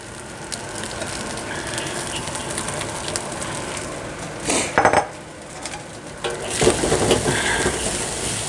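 Pre-cooked long grain rice stirred in a pan with sambal, onions and tamarind paste for Indonesian fried rice: a constant frying sizzle broken by a few louder scraping clatters of utensil against pan.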